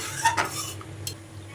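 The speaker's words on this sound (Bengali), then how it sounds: "তারপরে এটাকে ভালোভাবে মিশিয়ে নিলাম" A spoon stirs hilsa fish curry with turmeric, chilli powder and salt in a pot, giving a couple of brief scraping clinks near the start and one more later, fairly quiet, with no talking.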